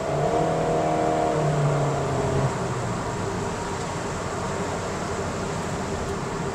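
A 2024 Honda Brio RS in sport mode holds its engine at high RPM, a steady loud drone from inside the cabin, with a brief higher tone early on before it settles into a constant roar.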